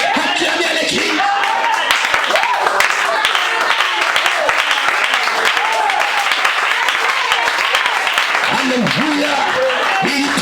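A church congregation claps and cheers at a Christmas service, sustained applause mixed with voices and singing-like tones throughout.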